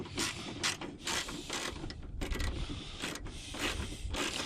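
A hand ratchet ticks in quick bursts as it tightens a bolt on an Audi A4. The clicking is loud, close and ongoing, with short pauses between strokes, and no one speaks.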